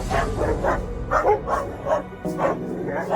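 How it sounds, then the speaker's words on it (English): A dog barks repeatedly at a bear from a safe spot, a quick series of sharp, moderately close barks and yips in an irregular rhythm. "the dog barked at the bear from a safe spot"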